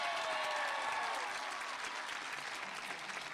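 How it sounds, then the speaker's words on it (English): A large crowd applauds steadily at a college commencement ceremony, with dense, sustained clapping that fills the space and fades only slightly, with no speech over it. "Let's give a round of applause for that."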